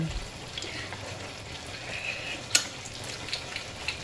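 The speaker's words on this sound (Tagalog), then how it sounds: "Kumukulo pa rin yung itlog natin." Soft bubbling and faint sizzling as an egg simmers in a pan, steady and quiet, with an occasional sharp clink.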